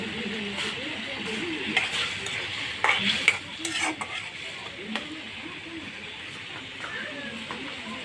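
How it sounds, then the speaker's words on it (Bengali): A masala of chili powder and coriander powder frying in a pan as it is stirred, with a steady sizzle under clinks and scrapes of a spoon against metal, busiest in the middle. "মশলাটা ভালো করে এরকম কষিয়ে নিয়ে পরে মাছটা দিয়ে দেবো।"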